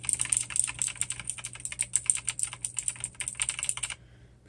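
Rapid, steady typing on a keyboard with Kailh clicky mechanical switches, a dense run of sharp close clicks for about four seconds before stopping, with a low constant hum underneath.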